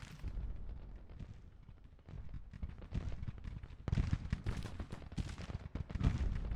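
Artillery reserve guns fire in a Civil War strategy game, a dense, continuous rumble of booms and crackling shots that swells louder partway through, with no talking.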